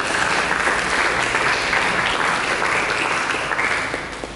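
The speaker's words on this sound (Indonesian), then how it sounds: "Mari kita tepuk tangan kepada Yesus" A church congregation claps hands together in a sustained, dense burst of applause, fairly loud and filling the room, tapering slightly at the end.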